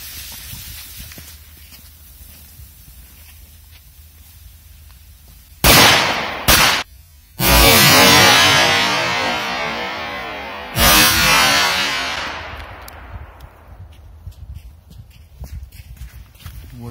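A Korsar 4 firecracker by Kometa goes off in water: after a quiet stretch come a few sharp, loud blasts, then a long rushing burst of spray and a final bang that fades out slowly, with no one talking.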